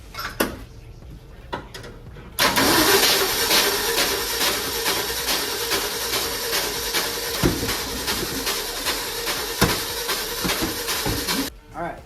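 A 1977 Ford F350 tow truck engine cranks over briefly, then catches and runs loudly and steadily for about nine seconds before cutting off, with a few knocks beforehand.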